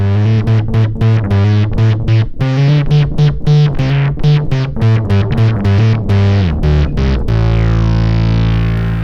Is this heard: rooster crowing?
no